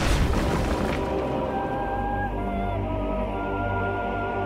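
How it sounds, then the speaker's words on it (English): Heavy cannon blast in a 17th-century style artillery barrage: one loud, close boom at the start that rolls away into a long, fading rumble. "as they blast out their deadly cannonade"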